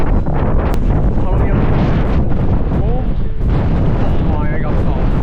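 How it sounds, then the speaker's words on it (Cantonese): Strong wind buffets the microphone at a misty mountain lookout in Hooker Valley, New Zealand, a loud continuous roar with gusts throughout; a voice talks briefly beneath it. "現在真係好大風啊！"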